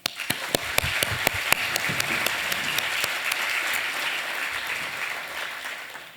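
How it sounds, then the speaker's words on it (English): Conference audience welcomes panelists with applause, opening with a few sharp individual claps that quickly swell into a full, even round of clapping before fading out. "Please give our panelists a welcoming round of applause."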